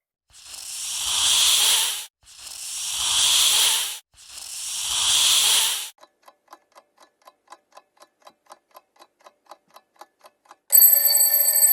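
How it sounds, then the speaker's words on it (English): Three long, loud snake hisses in a row, then a clock ticks steadily, followed by a short electronic chime. "It's a snake."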